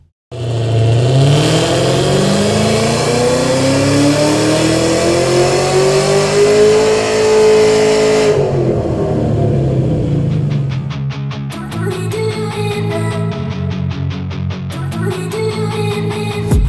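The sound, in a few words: Chevrolet Camaro ZL1 V8 Borla exhaust revving on dyno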